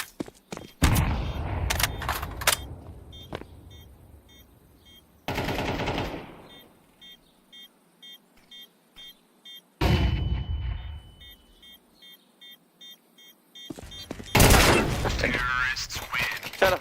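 A grenade is thrown in a multiplayer shooter game, with sharp loud blasts and bursts of gunfire separated by quieter stretches, clicking game sounds in between, and people talking over the action.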